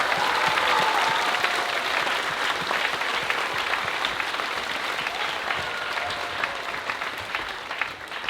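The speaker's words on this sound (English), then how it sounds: "Don't you think our student MCs and all our performers deserve another round of applause for their fantastic job?" An audience at a primary school musical applauds the student performers and MCs with sustained, dense clapping that holds strong before gradually thinning toward the end.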